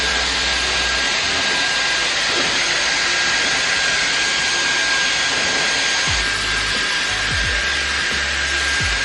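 A Dyson hair dryer runs continuously at medium fan speed and heat, a loud, steady close whoosh with a thin high whine, with brief low bumps as it moves near the end.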